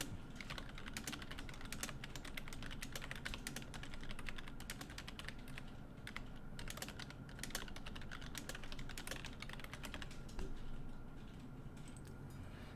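Steady, rapid typing on a computer keyboard, a dense run of light clicking keystrokes at close range that continues evenly throughout, with no talk.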